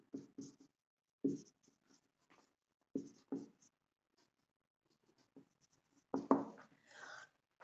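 Notes being written by hand during a chemistry lesson, with short scratchy pen or chalk strokes arriving in separate bursts and pauses between them, close and quiet.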